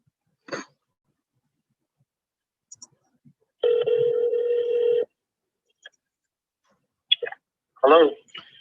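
An outgoing phone call rings while waiting for pickup: a single steady electronic ring tone, with faint clicks and a brief voice around it.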